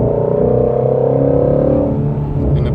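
A 2017 Ford Shelby GT350 with a flat-plane-crank V8 after a downshift to third gear gives a loud, close, steady exhaust drone with a rich harmonic burble. It holds for about two seconds, then eases back.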